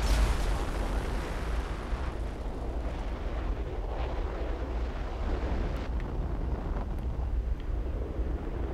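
A Fallout 4 engine test firing produces a sustained, roaring blast of broadband rumble, loud and steady throughout without a clear start or end, with no talking over it.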